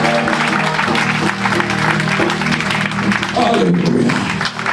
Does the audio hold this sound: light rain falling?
no